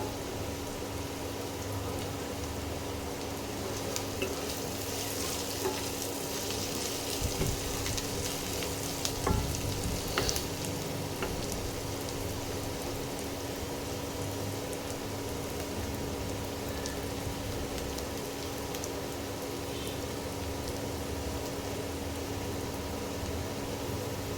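Onions frying in a pan over a high flame, a steady close sizzle with faint stirring clicks throughout and no talking.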